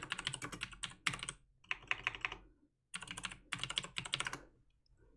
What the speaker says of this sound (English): typing for one moment